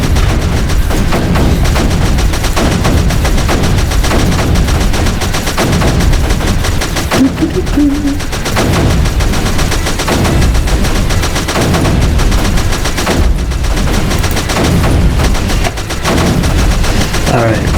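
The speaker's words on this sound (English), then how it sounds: "So much strafing." Loud, dense strafing gunfire in the video game Creeper World 3, rapid bursts of shots packed into a constant barrage filling the whole stretch, close and heavy with no pauses.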